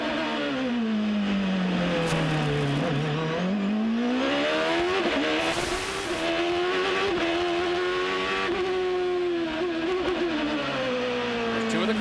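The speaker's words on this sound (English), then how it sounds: "Let's take it full throttle around this place as he tries to chase down Ronnie Bremer." Onboard a 2005 Champ Car racing at the San Jose street circuit, the engine screams loud and close, dropping into first gear for a chicane then climbing steadily under full throttle, with a commentator's voice faintly underneath.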